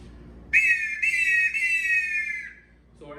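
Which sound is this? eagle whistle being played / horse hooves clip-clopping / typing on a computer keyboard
eagle whistle being played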